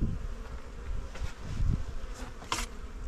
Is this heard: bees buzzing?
yes